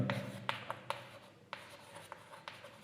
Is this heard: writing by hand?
yes